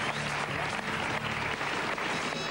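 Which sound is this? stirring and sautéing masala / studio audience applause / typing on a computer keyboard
studio audience applause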